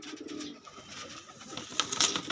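Chocolate-coloured female pigeon cooing softly at close range, a few low murmuring coos, with faint rustling and brief brighter chirps from other birds near the end.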